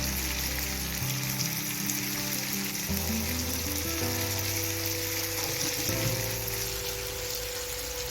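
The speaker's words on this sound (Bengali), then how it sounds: "টমেটোগুলো খুব ভালোভাবে ভাজা হয়ে গেছে আর সেদ্ধও হয়ে গেছে" Tomatoes fry in hot oil with salt for a soybean kofta curry, giving a continuous close crackling sizzle over a low, shifting background drone.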